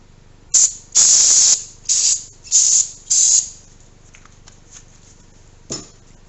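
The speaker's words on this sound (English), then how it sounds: "Spray it one more time" Several sharp hissing bursts of aerosol cleaner sprayed on a Ford 302 5.0 V-8 engine piston, five in quick succession, then a few faint ticks and one last short spray, close by.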